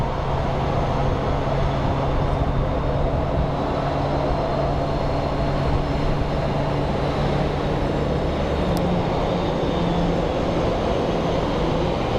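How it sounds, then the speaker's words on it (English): Beechcraft Super King Air departing a busy airport, heard as a steady broadband turboprop roar with low engine drone, continuous and fairly loud throughout, no talk. "So our next departure is going to be a Beach Super King going to Gallup."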